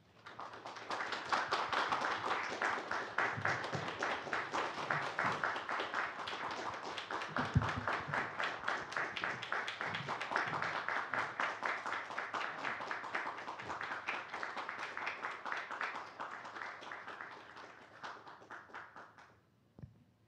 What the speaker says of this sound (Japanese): 現役を引退する柏木陽介選手へ大きな拍手をお願いいたします。